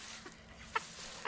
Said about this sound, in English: Look at all the turkeys.